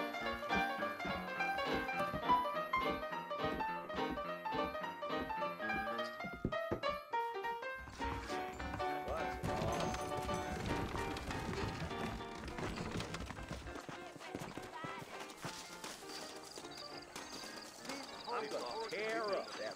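Saddled horses moving out in the Red Dead Redemption western video game, with rhythmic hoof clip-clop under a continuous music score and character voices, fairly faint throughout.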